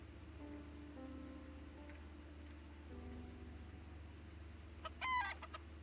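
Chickens cluck in an RPG Maker VX Ace game, a few short faint calls over a steady low background hum and tinkling game music, with a brief louder burst of squawking near the end.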